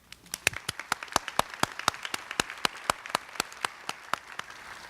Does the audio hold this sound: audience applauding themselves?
yes